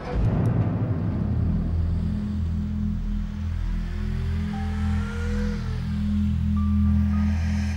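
A car engine idles steadily with a low, even rumble while its brakes are checked, a continuous close drone with a brief faint whine over it and no talk.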